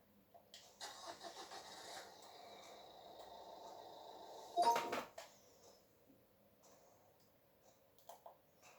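A city bus engine in the Roblox video game cranks and starts, a whirring starter followed by a rising engine roar that cuts off sharply, then quiet clicks, moderately faint and without talk.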